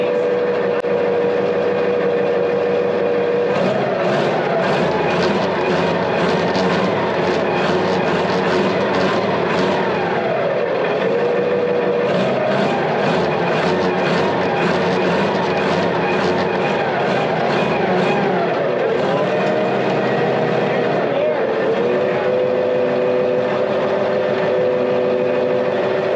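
A John Deere model 40 crawler engine runs steadily, close and loud, with a continuous drone and a fast rhythmic pulse that rises and falls slightly in pitch throughout.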